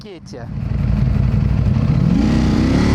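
A 2022 Ducati Panigale V4S sportbike engine revs up quickly from a brief dip and holds a loud, close, throbbing roar.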